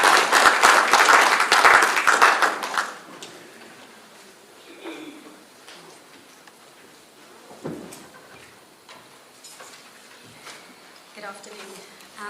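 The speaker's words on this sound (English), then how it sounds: "May we have a round of applause" Dense audience applause at a research colloquium rings out for about three seconds and then stops, leaving a quiet room with faint shuffling and small knocks.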